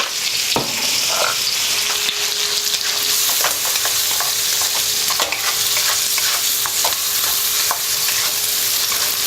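Garlic and onion fry in a pan with a steady, close sizzle and crackle, punctuated by repeated scraping stirs of a utensil.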